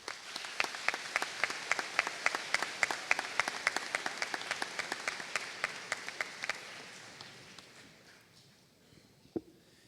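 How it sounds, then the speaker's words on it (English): An audience at an 8th grade promotion ceremony gives a round of applause: dense rhythmic clapping holds steady for several seconds, then thins and fades out, with one last stray clap near the end. "At this time, the students and I say thank you to you with a round of applause."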